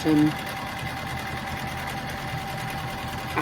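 A sewing machine stitching quilting lines through faux leather, its rapid needle chatter running steadily and close throughout.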